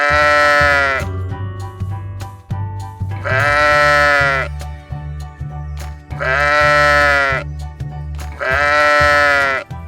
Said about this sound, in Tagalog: Kambing. Lamb.